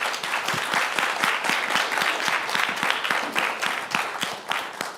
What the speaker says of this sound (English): so if everyone can give them a round of applause.